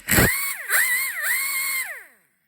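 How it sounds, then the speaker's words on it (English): A pneumatic air gun spins a seized brake line fitting, whining at a high pitch in several bursts, the tone sagging and recovering as the load changes, then winding down to silence; it is loud and close, with no talk. "get your air gun, put it on the opposite, and then listen for the RPM change"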